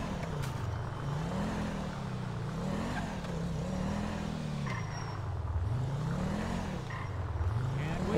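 A car in GTA V drives with a steady engine drone whose pitch rises and falls through gear changes and acceleration, sounding moderately close, with occasional speech under it.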